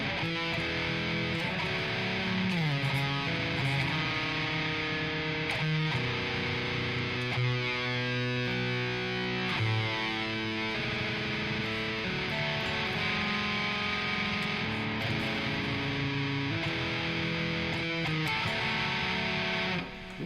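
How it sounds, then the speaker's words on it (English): Electric guitar chords played through heavy distortion in a slower piece, sustained ringing strums changing every second or two, loud and continuous with no talking. "I'll probably play that with a bit lighter distortion, kind of back the distortion off on that to get a little more clarity out of some of those chords"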